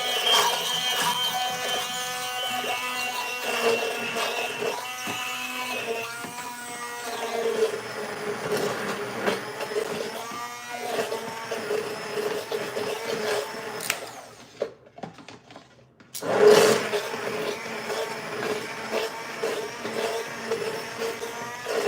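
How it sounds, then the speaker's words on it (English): A stick blender purees butter chicken sauce in a container, a loud close motorized whir that shifts in pitch as it works through the sauce, cuts out briefly near the end, then roars back. "we're gonna run this through the stick blender"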